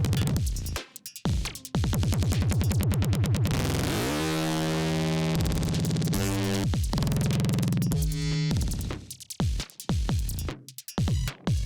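Heavily processed electronic sound from Ableton's Roar effect: weird modulated feedback delays that smear into warbling, pitch-shifting drones and stuttering repeats, loud, dense and distorted, with brief gaps of near-silence at the edges.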